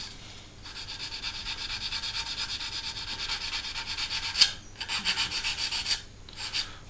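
Rapid rhythmic rubbing of a file or sanding sponge across the plastic surface of a Hasegawa 1/48 F/A-18F model kit, a steady close scraping with a few short pauses and no talk.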